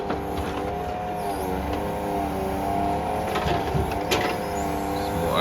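Oversized load trucks pass along the road, a steady, droning engine hum with harmonic tones rising and falling as the heavy vehicles go by, fairly close and loud, no talking.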